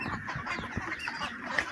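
Ducks on a duck farm in Comilla, quacking and honking in a steady, overlapping flock chorus at close to middle distance, with no talk over them.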